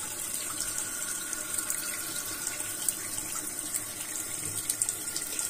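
Hot water runs steadily from a tap onto leather trekking boots, a continuous hiss and splash with no voices.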